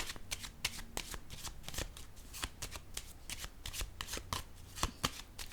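Tarot cards are shuffled continuously and close up, with a steady patter of quick flicks and soft card slaps.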